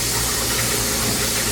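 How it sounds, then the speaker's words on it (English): Kitchen tap water rushes in a steady, loud hiss while a hand is washed after baking, a continuous close splash with no talk. "Okay, wash my hand."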